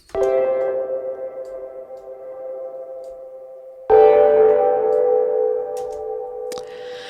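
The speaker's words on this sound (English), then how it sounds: "My next effect is the spring reverb, and it sounds like this." A dub delay is heard through a spring reverb effect. Two bright, bell-like tonal hits ring out with a metallic, drawn-out tail. The second hit comes a few seconds after the first, and faint clicks sit in the decay.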